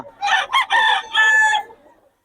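A sweater-bloodline gamecock rooster crows once, close and clear, a loud broken cock-a-doodle-doo lasting about two seconds.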